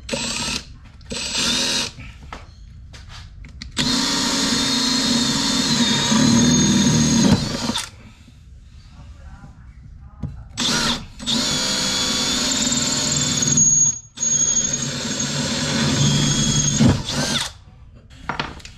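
A power drill whirs in several long bursts with short pauses between, close and loud, the motor pitch steady while it bores holes in a 3 hp electric high-pressure washer.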